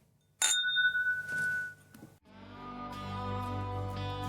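Glasses clink sharply once in a bourbon toast, leaving a bright ringing tone that fades, and music then comes in underneath.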